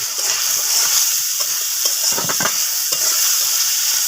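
Potatoes frying in a pan with salt as they are stirred, giving a steady bright sizzle with scraping stir strokes throughout, close and loud, no talking.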